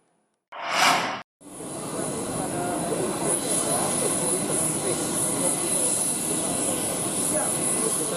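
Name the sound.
Indonesian Air Force Boeing aircraft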